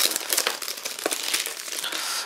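Crinkly, crumpling handling of a big cardboard PC game box being opened, a close, busy rustle of packaging lasting a couple of seconds with no talking.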